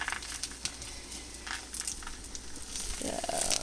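An egg frying in a cast iron pan gives a steady, close crackle and hiss throughout, with brief scraping touches and a louder sizzle swelling near the end.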